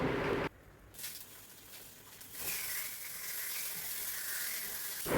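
Fish fries in a hot pan with a steady crackling sizzle, close and moderately loud, briefly interrupted by quieter stretches and occasional clinks, with no talking.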